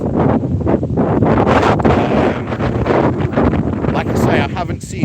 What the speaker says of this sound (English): Hang on, it's a bit windy. Hopefully you can still hear me.